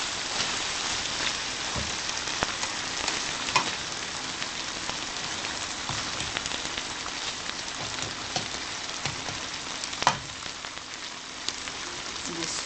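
Breadfruit and seasoned cheese simmering in a pan on the stove, a steady soft sizzling, bubbling hiss with scattered small pops, continuous and close throughout.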